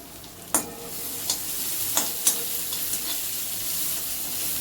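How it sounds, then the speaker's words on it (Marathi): Green chili and capsicum stir-fried over a high flame for cabbage Manchurian gravy hiss in a steady bright sizzle, with a few sharp clacks of a spatula against the pan, close and without voices. "आपण हे फास्ट गॅसवर परतून घेतोय"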